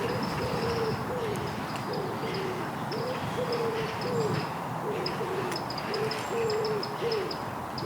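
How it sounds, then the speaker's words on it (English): Wood pigeons coo from trees on a spring morning neighbourhood walk in Hampshire, a repeated soft rhythmic hooting phrase that sounds several times at moderate distance over a steady outdoor background. "There's quite a few wood pigeons in the various trees."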